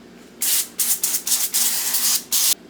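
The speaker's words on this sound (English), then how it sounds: "I'm going to spray these with a little bit of oil." Several short hissing bursts of an oil spray can misting food before baking, close by, in quick uneven succession with brief gaps between them.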